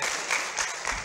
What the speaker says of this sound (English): Please, another round of applause for yourself.